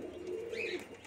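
Pigeons cooing in a coop where hens and eggs are kept, a soft, low continuous coo close by with a brief higher chirp in the middle, no talking.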